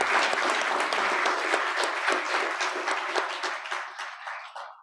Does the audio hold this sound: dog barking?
no